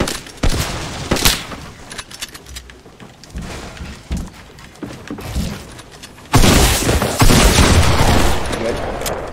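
Turret gunfire rattles through a video game match as fast bursts of shots and booms, loud and close, with a heavier sustained barrage near the end and voices talking partly over it.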